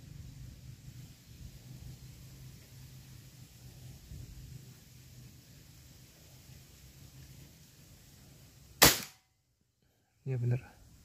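A single sharp rifle shot rings out at a target after a quiet stretch of low background hum, followed shortly by a brief thump, with someone speaking softly nearby.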